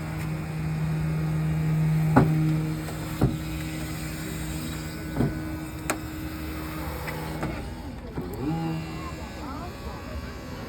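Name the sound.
Jaws of Life hydraulic tool prying car door open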